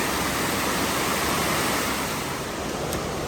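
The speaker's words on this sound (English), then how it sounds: "a nice little slide falls cascading into Cane Creek" A small slide falls at Pounder Branch cascades into Cane Creek in Daniel Boone National Forest, giving a steady, close, dense rush of falling water with no break.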